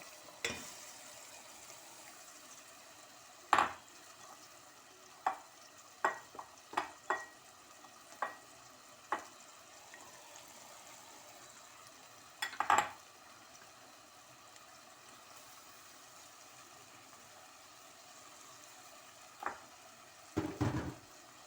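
Celery pieces fry in a pan for an orange-flavoured celery dish, giving a faint, steady sizzle. Sharp stirring scrapes and clacks come in scattered bursts, close by, with no talking.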